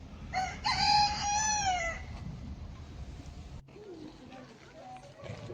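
A rooster crows loudly and clearly once at the Trianon estate farm in Versailles, a drawn-out call close by, followed by quieter farmyard noise and faint animal sounds.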